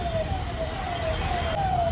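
A fire engine siren wails in repeated falling sweeps amid jammed Delhi road traffic, steady and fairly loud over a constant rumble of engines and street noise.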